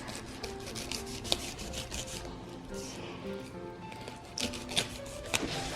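A knife saws and scrapes through a pineapple in close, rough, rasping strokes, with a few sharper clicks as the blade works through the tough fruit.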